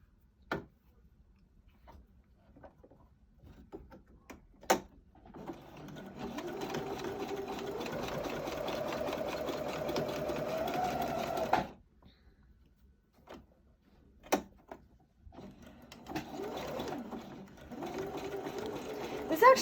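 A sewing machine stitches a fabric mask, its motor whirring in two sustained runs, separated by quiet stretches with scattered clicks and taps of handling.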